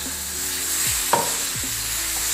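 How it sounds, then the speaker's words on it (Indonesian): Ground spice paste sautés in hot oil in a pan, a steady loud sizzle with a few scraping stirs of the spatula throughout and no voices. "bumbu halus tadi kita tumis sampai dia harum aja"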